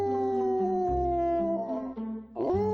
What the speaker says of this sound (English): He sat down and howled.